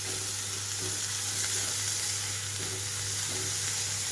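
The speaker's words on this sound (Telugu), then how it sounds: "ఇక్కడ అల్లం వెల్లుల్లి పేస్ట్ అంతా వేగిపోయిన తర్వాత కట్ చేసి పెట్టుకున్న మెంతి కూరను వేస్తున్నాను" Chopped fenugreek leaves fry with partly cooked potatoes and ginger-garlic paste, an even, close sizzle running throughout over a low steady hum, with faint stirring touches.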